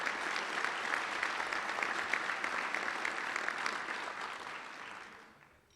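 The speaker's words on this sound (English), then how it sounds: "Let's give a round of applause to the Little Rock Touchdown Club for today's effort" A luncheon crowd at a Little Rock Touchdown Club meeting applauds, steady dense clapping that holds for several seconds at moderate level, then tapers off and fades.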